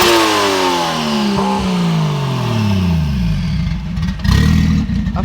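A procharged Camaro's engine revs hard at a car meet, loud and close, its pitch sweeping down through several falling harmonics before a sharp blip of throttle near the end, with a raspy clattering edge throughout.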